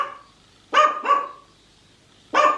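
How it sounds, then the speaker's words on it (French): A dog barks at birds outdoors: a close, sharp double bark followed by a pause, then another single loud bark, each clear against a quiet background. "oui tu vas aller aboyer les oiseaux"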